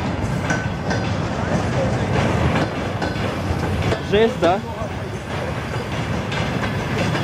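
Long freight train on a railway line rolling past nearby, a steady loud rumble with rhythmic wheel clatter and a brief squeal, while people chat over it.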